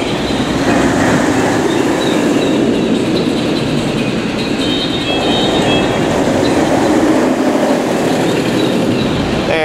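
The Hulk roller coaster train roars past during test runs, a loud, steady rumble of wheels on track with rattling and a faint high squeal, filling the whole stretch with no pause.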